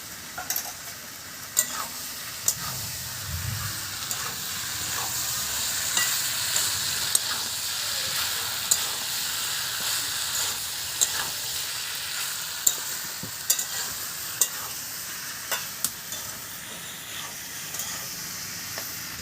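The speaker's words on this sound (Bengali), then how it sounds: "কচুটা কিন্তু আমার ভালো করে কষে নেওয়া হয়ে গেল।" Taro (kochu) being sautéed with spices including Kashmiri chili powder in a pan: a continuous close hiss of frying with scattered clicks and scrapes of stirring, steady and moderately loud, no voices.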